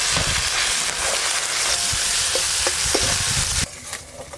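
Potatoes fry in a pan with turmeric and salt, giving a loud, steady close-up sizzle with occasional stirring knocks before the hiss suddenly drops lower near the end.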